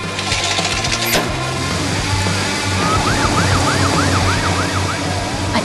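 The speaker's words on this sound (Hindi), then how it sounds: "पुलिस की सायरन गूंजती है" A cartoon police car siren wails in a rising and falling rhythm over busy traffic and motor noise in an animated city street.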